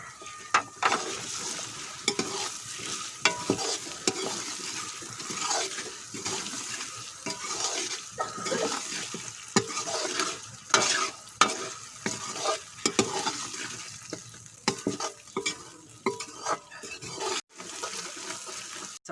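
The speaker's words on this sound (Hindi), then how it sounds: "मसाला हमारा अच्छी तरह फ्राई हो चुका है।" Taro slices and sliced garlic fry in a spice masala in a pan, giving a steady sizzle with frequent stirring scrapes and clinks throughout, close and moderately loud, with no talking.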